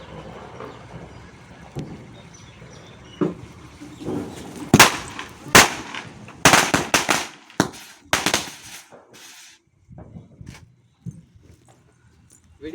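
A string of homemade Diwali firecrackers goes off outdoors in a ragged series of sharp, loud cracks, bunched mid-clip with uneven gaps, then trailing into scattered pops and background murmur.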